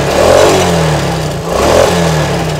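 A Suzuki Shogun motorcycle engine is revved twice in close succession, each rise swelling and falling back to idle, loud and close with a slight mechanical clatter.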